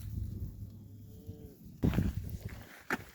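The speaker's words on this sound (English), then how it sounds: "But yeah, there's all the cows." Cows low on a farm on a cold morning, a few moos rising over low rustling and distant movement, with a louder, nearer bellow partway through and a short call near the end.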